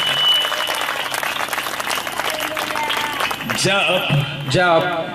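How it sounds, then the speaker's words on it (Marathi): A church congregation claps for Jesus in a loud, dense burst of applause lasting a few seconds, then a preacher's voice takes over as the clapping fades. "किती लोकांना वाटतं मी येशूसाठी टाळी वाजू शकतो"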